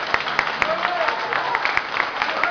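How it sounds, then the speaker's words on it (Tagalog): A church congregation claps hands during worship, sharp rhythmic claps landing at a steady pulse over a dense wash of voices and music. "clap your hands to the Lord"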